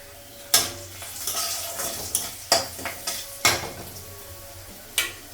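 Masoor dal cooking in a pot with salt and turmeric added: sharp metallic clanks of a spoon against the vessel recur at irregular intervals. A soft sizzle and bubbling run steadily underneath, close and fairly quiet.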